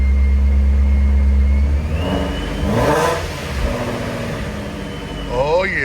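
A Procharged Shelby GT350 drives off, its engine climbing in a rising rev that swells and falls in pitch, loud and near, with a steady low rumble underneath and a second rev rising near the end; a voice speaks briefly over it.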